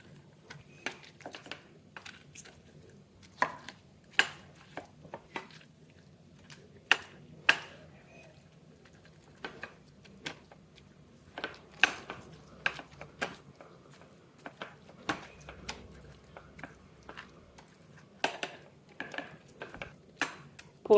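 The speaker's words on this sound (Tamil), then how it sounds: "இதை வந்து மசிச்சு விட்டுடலாம்." Garlic, chili, tomato, onion and coriander leaves are mashed together for a chutney, making irregular sharp taps and clicks of a utensil against a bowl, close and fairly quiet, with no voices.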